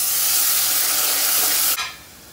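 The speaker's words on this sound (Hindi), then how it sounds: "अब इसमें मैं ये प्याज डाल दूंगा।" Onions going into hot refined oil in a pan for a chicken curry, a loud close steady sizzling hiss that drops away abruptly near the end.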